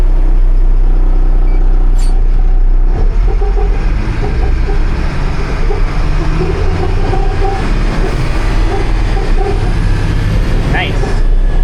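An LMTV military truck drives along with a loud, steady engine and drivetrain roar that holds throughout, with rattling and road rumble underneath.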